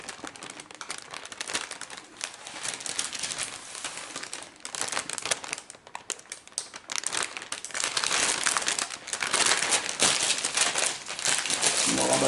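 Parchment paper crinkling and crackling steadily while a Nutella roll cake is rolled up, a dense rustle that gets louder toward the end, heard close with occasional talk.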